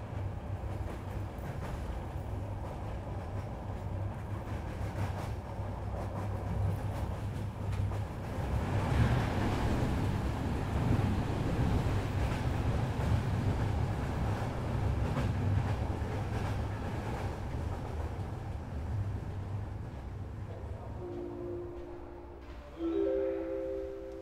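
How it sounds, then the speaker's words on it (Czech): A passenger train on line S1 rumbles along the rails with a steady, loud, continuous roar that swells in the middle, then eases as a short tonal chime sounds near the end. "Osobní vlak číslo 3422, linky S1, přijel k nástupišti číslo 2, kolej 2."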